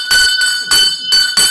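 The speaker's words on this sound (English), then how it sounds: "Ring the bell, Palace." A bell rung loudly for a birthday celebration, with four bright, ringing strikes in an even rhythm close to the listener, each leaving a shimmering tone.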